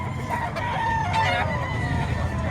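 A stag rooster crows at a busy Padre Garcia, Batangas livestock market, one loud drawn-out call standing above a steady murmur of crowd noise and clucking fowl.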